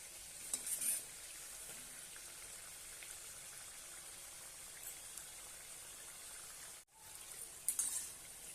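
Crisp spinach mathri snacks deep frying in hot oil give a steady, soft sizzle throughout, with a few brighter crackling bursts and one brief drop near the end.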